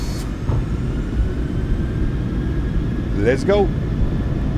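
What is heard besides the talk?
PMDG 737-800 engines at takeoff power, flight simulator MSFS2024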